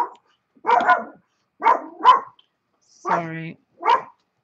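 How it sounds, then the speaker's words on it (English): A dog barks in a few short bursts at close range, spaced across several seconds and mixed with brief speech from a person nearby. "My dog."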